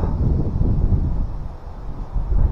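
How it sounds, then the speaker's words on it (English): Gusting fall wind buffets the microphone outdoors among dead trees, a loud, uneven low rumble that swells and eases in irregular waves with no speech over it. "we got gusting wind going here"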